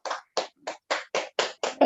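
A handful of people in a small group clap in eight separate bursts, each quick round of hand claps lasting a fraction of a second with short pauses between, fairly close and moderately loud.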